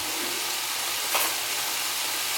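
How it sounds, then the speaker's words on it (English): Butter sizzling with minced garlic in a hot pan, a steady, even frying hiss throughout with one brief louder crackle partway through. "I'm also gonna put some butter in there."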